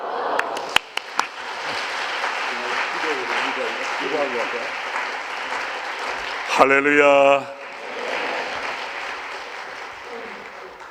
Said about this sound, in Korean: 이제 목사님을 강단에 박수로 모시도록